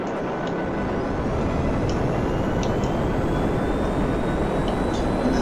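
Pyro two-seat plane flying in the GTA Online video game, a steady, loud broadband engine roar and rushing wind that hold constant throughout with no pauses.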